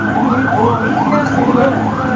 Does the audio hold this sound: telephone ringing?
no